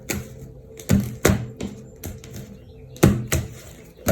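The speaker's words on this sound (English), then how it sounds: "I'm going to cut the deck a couple times here." A deck of tarot cards being cut and shuffled by hand, several sharp papery slaps and riffles in an uneven rhythm, close and fairly loud.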